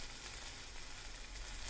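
Pepper sizzling as it drops into a hot pan, a steady, even frying hiss with crackle throughout, close and moderately loud, with no voices.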